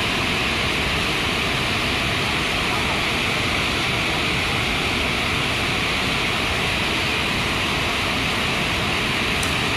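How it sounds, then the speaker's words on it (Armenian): The Berkri waterfall in Armenia roars steadily throughout, a dense, unbroken rush of falling water with no pauses or other sounds standing out. "Բերկրի ջրվեժը, ձայնը"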